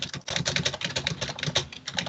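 Computer keyboard typing up close, a fast, even run of crisp keystrokes that continues without pause and with no voices.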